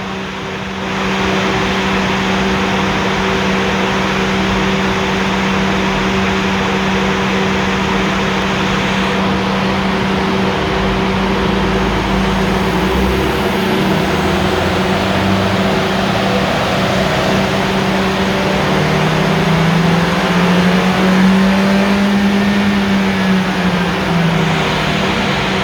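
A Suzuki Swift Sport ZC33S with a 1.4 turbo Boosterjet engine and manual gearbox runs on a dyno, a loud sustained engine drone and whir that climbs steadily in pitch as revs build, with roller noise throughout.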